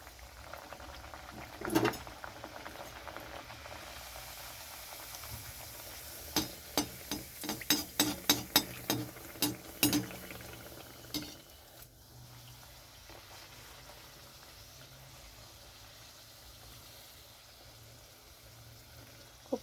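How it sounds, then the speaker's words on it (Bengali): Coriander-leaf luchi dough drops into hot oil and fries with a busy bubbling sizzle, a flurry of sharp crackling pops in the middle, then a calmer, steady fizz near the end. "তো এখানে আমি ছেড়ে দিচ্ছি ভাজার জন্য।"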